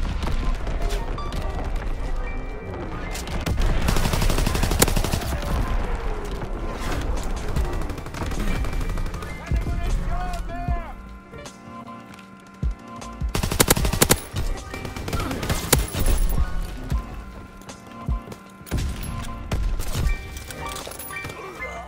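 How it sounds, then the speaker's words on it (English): Heavy artillery battery firing in a combat video game: loud, booming rounds and sharp gunfire bursts sound over a dense battle mix, with rapid volleys repeating throughout. "Firing primary battery."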